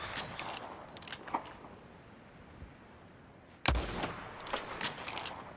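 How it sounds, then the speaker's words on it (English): A single sharp gunshot cracks out in an open frontier landscape in Red Dead Redemption 2, fired near a group of outlaws, loud and abrupt against quiet ambient sound, with a few fainter pops and clicks before and after. "Put a shot in near them."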